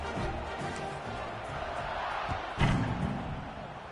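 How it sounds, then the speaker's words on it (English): A football stadium crowd in Georgia hums with a steady roar after a score, with a sharp thud partway through and voices present over the noise. "this crowd is buzzing after that last score"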